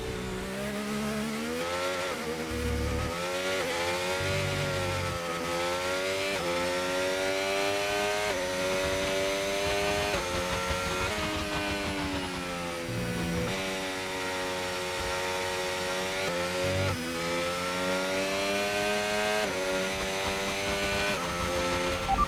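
A Formula 1 car engine in the F1 25 racing game at the Miami Grand Prix, a loud continuous whine rising and falling with gear changes through the lap, steady and close with no voices.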